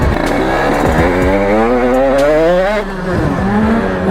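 A Bidalot Factory Label motorcycle engine revs up and down in rising and falling waves, loud and close, with a brief dip before it picks up again.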